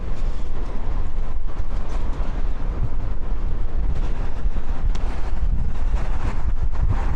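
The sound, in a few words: strong wind funnelling through passages during Storm Pia, Blackpool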